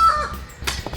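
Birds caw outside near a garage where a KT196 go-kart engine is being worked on, giving a short, close burst of harsh calls with no talking.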